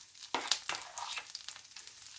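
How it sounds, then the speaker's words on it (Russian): Syrniki, cottage cheese pancakes, being set into a hot pan, a soft close sizzle and crackle that begins sharply and settles into gentle frying, with no talking. "Они, сырники сейчас начнут немного выпекаться, они станут более крупными."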